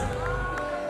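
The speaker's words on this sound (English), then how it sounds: "A big round of applause, ladies and gentlemen" At a Ghana football awards ceremony, a crowd cheers and claps for the Footballer of the Year, a continuous wash of applause and cheering under background music.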